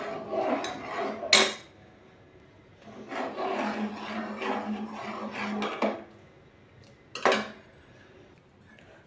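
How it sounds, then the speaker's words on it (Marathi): Sabudana kheer being stirred in a pot, a spoon scraping and rubbing along the metal in steady bursts with a couple of sharper clinks against the rim, close and fairly loud, no talking. "ही साबुदाण्याची खीर आपल्याला सारखे हलवावी लागते"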